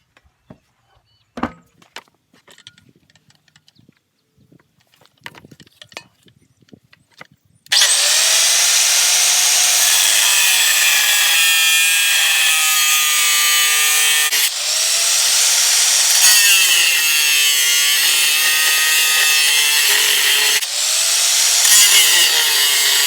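A power saw cuts through steel stock for spoked wheels on an engine cart, a loud, steady high-pitched grinding whine that runs continuously after a few scattered knocks and clanks at the start.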